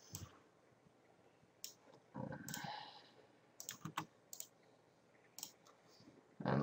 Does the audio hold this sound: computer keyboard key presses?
yes